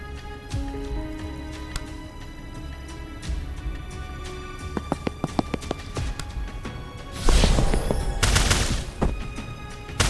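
Gunfire from a Tactical Breach Wizards game scene, friendly fire in a final raid: a string of sharp shots rings out over a steady music bed, then a loud dense burst of firing near the end, no talking.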